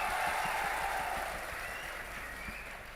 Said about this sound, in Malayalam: ദിലീപ് ഏട്ടന് വേണ്ടി ഒരിക്കൽ കൂടി നല്ലൊരു കൈയടി.